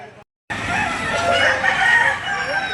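Chickens for sale at a Filipino poultry market cluck loudly and a rooster crows nearby after a brief silence, the birds noisy and close, layered over faint background chatter.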